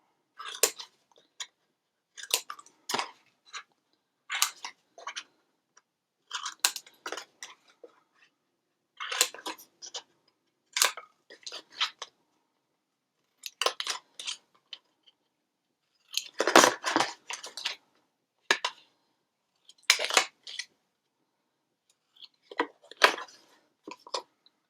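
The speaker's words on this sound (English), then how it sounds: "Now we're going to cut out that square again." Scissors snip out a paper rectangle for a craft album cover in short clustered bursts of crisp cuts, separated by brief pauses, close and clear with no talk.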